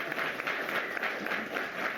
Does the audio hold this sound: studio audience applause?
yes